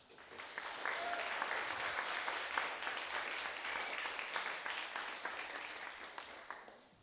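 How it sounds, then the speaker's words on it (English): Applause from an evening audience at a circular economy showcase in Austin, a steady wash of many hands clapping that holds for about seven seconds at moderate distance before tapering off, with no talk over it. "So a big round of applause for them."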